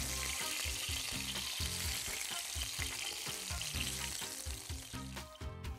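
Chicken thighs frying in oil with continuous loud sizzling and spattering, easing slightly toward the end.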